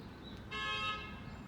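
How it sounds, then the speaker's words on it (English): A car horn honks once in traffic, a steady tone lasting about half a second, heard at moderate distance over road noise. "See, that's why they're honking."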